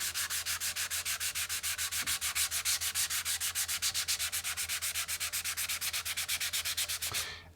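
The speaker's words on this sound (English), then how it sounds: "I'm going to very lightly sand back the black stain" A Velcro flex pad with sandpaper lightly sands black stain on a guitar body in rapid, even back-and-forth strokes, a loud rhythmic scratching that continues steadily for several seconds and then stops.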